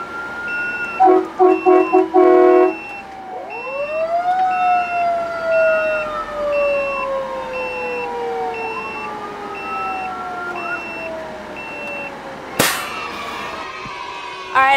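A fire engine sounds its wailing siren, rising and falling as it runs, with short blasts of the air horn at the start and a sharp clang near the end, loud against outdoor background noise.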